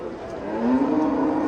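A cow or calf at a cattle bazaar in Bostonliq district gives one short, rising moo, close by and fairly loud, over a faint market background.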